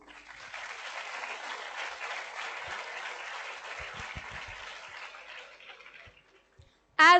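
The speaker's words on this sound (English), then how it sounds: "round of applause" A school Founders Day audience claps steadily for several seconds, then the applause thins out and fades, followed by a short, sharp burst of sound at the end.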